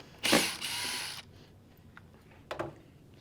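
Screws holding the ears of a leather saddle are unscrewed with a small power driver, a loud whirring burst of about a second followed by two short, quieter buzzes, close and alone.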